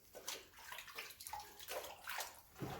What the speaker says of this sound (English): Just using water, nothing in it, just water right out of the sink